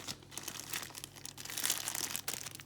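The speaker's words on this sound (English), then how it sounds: "I'm gonna clip the end with a scissors" A short burst of crinkling and scissors snipping the end of a plastic piping bag, close and fairly quiet, with no voices.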